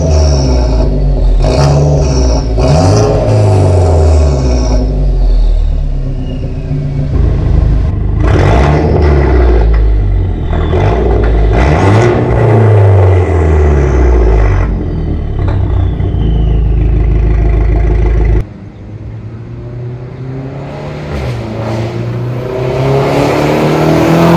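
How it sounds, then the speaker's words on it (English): A VW Scirocco with a straight-piped exhaust and the resonator deleted revs repeatedly, loud, raspy engine swells climbing and falling with crackling between blips, recorded close to the tailpipe. "So they are going to be testing out the exhaust."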